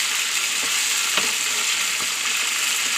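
Steady, loud sizzling of chicken biryani frying in a pan, with occasional soft stirring clicks of a utensil over the continuous hiss.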